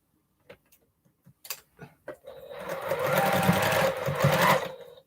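A domestic sewing machine stitches a quilt's center seam in one steady, close burst lasting a few seconds, preceded by several soft handling clicks and taps.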